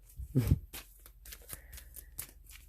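Quiet, close riffle of a deck of cards being shuffled, followed by soft flicks and slides as cards are drawn and laid down, with sparse light taps and no talking.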